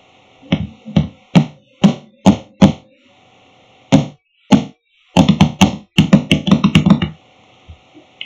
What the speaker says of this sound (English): that was the sound of me clanging on my computer